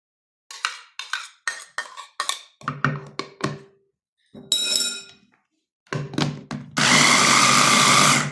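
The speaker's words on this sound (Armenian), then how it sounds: "այ հիմա որ ջուր լցրեցիք, հեշտ պտտվում է ու լավ էլ կխփի, տեսեք ինչ լավ է միքսեր խփել" Electric mixer blending lemon and garlic with water, heard as a string of short loud whirring bursts with clinks, then a sustained close, loud, steady blending roar at the end.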